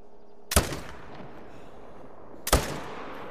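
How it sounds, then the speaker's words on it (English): Two sharp .300 rifle shots in a hunting video game, about two seconds apart, each a loud crack with a short rolling tail against a quiet outdoor background. "Maybe try to get a follow-up shot."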